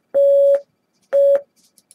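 Two identical clean electronic beeps marking the start of answer preparation in a spoken test, each about half a second long and about a second apart, loud and isolated in silence.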